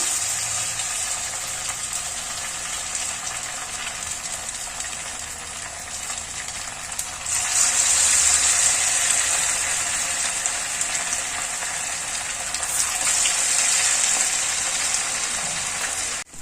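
Leftover-rice vadas sizzle steadily in hot oil, a dense broadband hiss that swells louder as more pieces drop in around the middle, then settles into a continuous close frying crackle with no voices.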